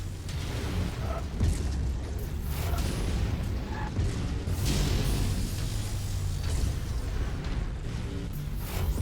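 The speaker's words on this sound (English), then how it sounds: "Incoming missile." Incoming missiles bursting in MechWarrior 5: Mercenaries, a steady rumble of booms and low explosions with scattered impacts at moderate distance, dense and sustained throughout.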